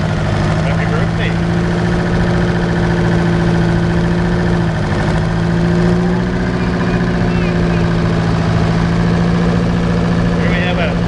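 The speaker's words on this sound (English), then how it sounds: "Here we have a Oliver 88 diesel" A 1959 Oliver 88 diesel tractor runs in an outdoor tractor parade, its steady low engine drone continuous throughout, loud and close, with faint background sounds but no clear speech.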